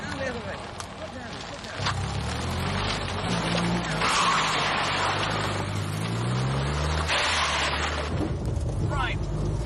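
A car driven hard around an obstacle course on a 1975 children's TV outing, its engine revving and rising in pitch through gear changes while tyres skid, close and loud, with voices talking over it.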